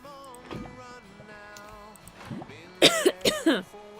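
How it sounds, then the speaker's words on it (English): A burst of several harsh, close coughs in quick succession, following a stretch of soft background talk. "Excuse me, I'm just going to start coughing now."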